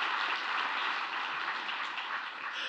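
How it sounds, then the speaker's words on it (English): Applause and clapping from an audience at a live talk, a soft, even wash of many hands that runs steadily for a few seconds without voices. "We're not used to the clapping."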